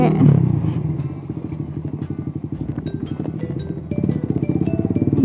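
A Suzuki GSX-R150 sport motorcycle engine idles and revs with a fast, throbbing putter, close up and loud, rising slightly toward the end.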